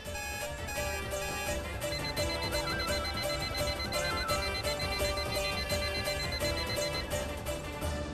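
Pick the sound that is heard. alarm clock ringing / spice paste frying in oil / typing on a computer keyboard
alarm clock ringing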